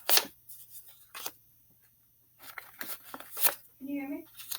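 Tarot cards being shuffled by hand in short, crisp papery bursts separated by quiet gaps, with a brief voice near the end.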